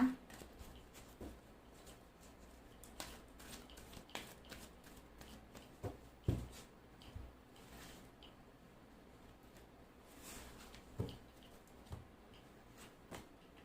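Tarot cards are shuffled and drawn, soft papery riffles, slides and light taps recurring at close range across the stretch, quiet and with no voices.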